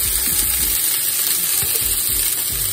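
Food sizzles loudly and continuously in a hot pan before being steam-fried, a dense crackling hiss with small pops and no voices.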